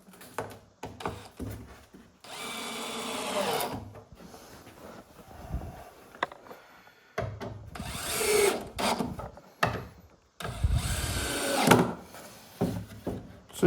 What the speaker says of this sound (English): So you go by feel as well when you're screwing stuff.